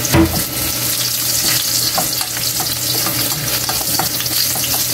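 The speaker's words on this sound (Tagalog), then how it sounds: "magsisimula tayo mag-gisa ng ating mga sangkap. Unahin mo natin yung bawang." Garlic sautéing in hot reused frying oil, a loud continuous close sizzle with constant crackling and the scrape of stirring, no talking.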